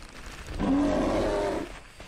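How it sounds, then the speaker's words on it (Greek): A growling bear roar from a Bigfoot video game swells for just over a second, low and raspy, over steady background rumble before dying away. "Ναι, αυτό είναι αρκούδα."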